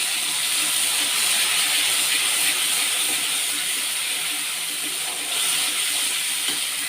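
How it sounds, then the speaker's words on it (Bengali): Ground spice paste hits hot oil in a pan and sizzles with a dense, steady hiss that stays loud and even throughout, no voices over it. "এবারে মশলাটা বেটে রেখেছিলাম এটা তেলের উপরে দিয়ে দেবো।"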